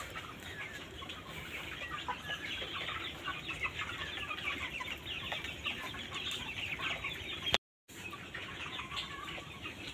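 A flock of broiler chickens crowded inside a poultry shed, a continuous bustle of soft clucking, rustling and fluttering wings at moderate volume, with a brief dropout near the end.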